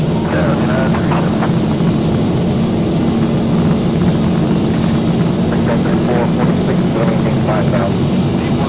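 Jet engines on an X-Plane 12 Zibo 737 spool up to takeoff thrust, a loud steady roar filling the whole clip at constant level with a broad low rumble and no breaks.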